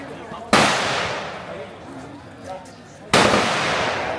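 Two loud, sharp handgun shots at a firing range near the Cu Chi Tunnels, about two and a half seconds apart, each followed by a long echoing tail, with faint voices in between.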